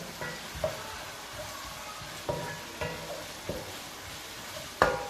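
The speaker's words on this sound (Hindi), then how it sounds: "इसकी भी अच्छे से भुनाई कर लेंगे ताकि लहसुन का जो कच्चा पाना ना वो इसमें खत्म हो जाए।" Garlic and ginger fry quietly in a pan with sizzling, a few scraping stirs and light clinks of a utensil, no talking.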